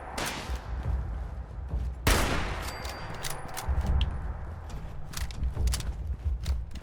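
Gunfire in the online game Fallout 76: a run of sharp, close shots and bursts comes in quick irregular succession, one heavy blast standing out, over a busy ambient game background.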